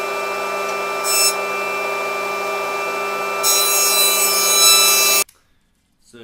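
A woodworking planer takes light passes off a piece of purpleheart timber being prepared for a laminated guitar neck: a steady motor whine with two bursts of rougher cutting noise, the second longer, before the machine cuts off abruptly.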